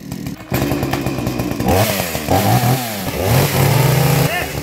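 A motorcycle passes close by, sounding like a motocross race: a loud, buzzing engine revs up and down with rising and falling pitch and shifts gears as it goes, while people talk over it.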